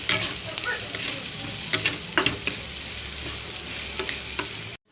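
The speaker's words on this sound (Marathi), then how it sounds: "पुन्हा एकदा आपण चांगलं परतून घेऊ मसाला ते चांगलं परतलं गेलं पाहिजे ना आपल्याला" Masala with coriander powder sautés in a pan, a steady close sizzle punctuated by several sharp spatula scrapes and taps, ending abruptly, with no speech.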